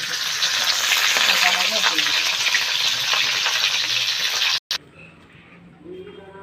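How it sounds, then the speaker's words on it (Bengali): Kachki fish fritters wrapped in bottle gourd leaves fry in a wok with a loud, dense, continuous sizzle that cuts off abruptly, followed by quieter scraping and stirring. "ভেজে নেব, কড়াইতে দিয়ে দেবো।"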